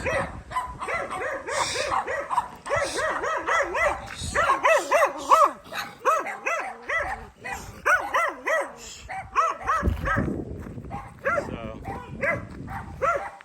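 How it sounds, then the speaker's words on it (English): Several dogs bark repeatedly in rapid, overlapping bursts, loud and close, with yips mixed in and some talking underneath. "Everybody's got dogs here."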